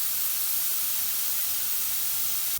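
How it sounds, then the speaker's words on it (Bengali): Vegetables with browned garlic sizzle in a pan. The hiss is loud and steady throughout and cuts off abruptly at the very end, with no voices. "এখন এই ভেজিটেবলটা কিছুক্ষণ যাবত আমি নাড়াচাড়া করে হালকা একটু সতে করে নিব"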